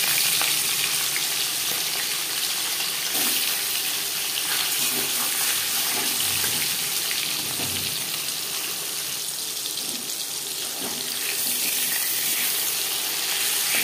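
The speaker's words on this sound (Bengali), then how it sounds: "তেল গরম করে নেওয়ার পর দিয়ে দেবো মাছ" Katla fish frying in hot oil in a home kitchen, a continuous loud sizzle and crackle with occasional clinks and stirring, steady from start to finish.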